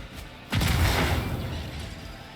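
Grenade blast in the video game Warhammer 40K Rogue Trader, a single sudden booming explosion after a short quiet moment, fading into a rumbling tail.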